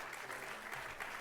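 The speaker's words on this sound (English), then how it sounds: "please give your round of applause for the Honorable Congressman Clay" Audience applause for Congressman Clay at a voter protection event, a steady wash of clapping from a crowd that holds at an even level throughout.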